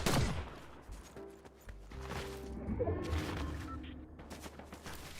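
Gunfire in the Fortnite video game arrives as a sharp loud shot and then several fainter bursts at a distance, layered over game ambience and a low hum.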